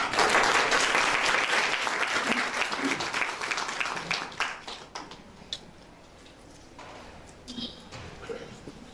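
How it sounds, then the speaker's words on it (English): A large audience at a young writers' poetry conference in Pakistan bursts into a loud round of applause that swells at first, then thins out over several seconds into scattered individual claps. "Please give a huge round of applause"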